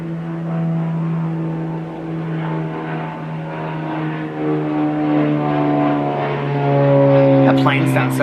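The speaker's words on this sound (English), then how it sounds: "That plane sounds so pretty." An airplane flies overhead on a summery day, its propeller drone steady and moderately loud throughout and swelling slightly near the end.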